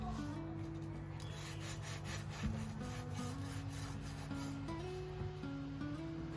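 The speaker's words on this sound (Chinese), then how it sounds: "外皮非常的酥脆。" A knife saws through the crisp, golden crust of pan-fried layered flatbread on a cutting board, giving steady rasping crunches under continuous background music.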